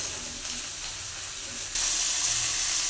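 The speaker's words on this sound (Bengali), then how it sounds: "এবার এটা ভালো করে ভাজতে দেবো।" Cauliflower, potato and onion fry in a pan with a steady, bright sizzling hiss that swells louder partway through and holds, close and alone without talking.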